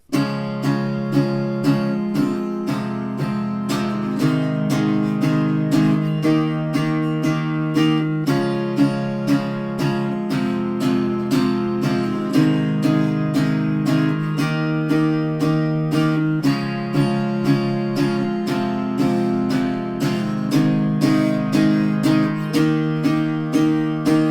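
An acoustic guitar strums the bridge chords of a song in a steady, even rhythm, the chord changing every few bars, clear and close with no voices.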